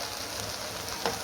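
Meat hitting a hot pan with sautéed onions gives a steady, close, fine-grained sizzle that holds at an even level for about a second, with one small crackle near the end.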